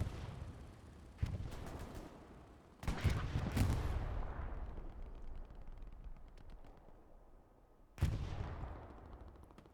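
In the game Hell Let Loose, gunshots and heavy tank fire boom out during a battle, several sharp blasts with long rumbling decays and scattered distant gunfire in between, fairly faint overall.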